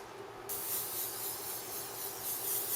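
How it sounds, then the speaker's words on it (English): Cooking spray hisses continuously onto tender cooked summer squash, a close, steady broadband spray lasting a couple of seconds with no talking. "So now I'm going to add my cooking spray to it."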